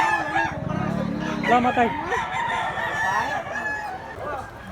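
A big two-year-old white-legged gamecock weighing about 2.4 kg crows loudly and clucks up close, while people talk over it in the background.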